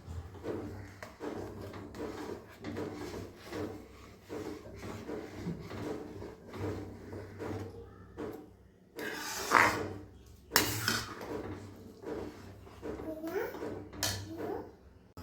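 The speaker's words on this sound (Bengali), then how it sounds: "তবে নাড়িয়ে আমি মিক্স করে নেব।" Nolen gur payesh, a milk pudding, stirred in a pot: uneven scraping and clinking of a utensil against metal, with a few sharper knocks near the middle and a low voice murmuring in the background.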